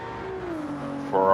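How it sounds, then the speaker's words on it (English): A Ferrari race car engine in Gran Turismo 7, a sustained whining note that slides lower, then rises sharply as it revs harder, close and loud. "Ferrari sounding great as always, especially this one"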